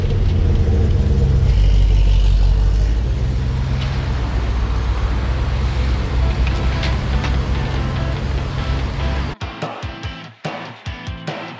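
A BMW car engine running on fresh oil hums in a steady, loud, low drone, then cuts off near the end into a few sharp clicks and knocks.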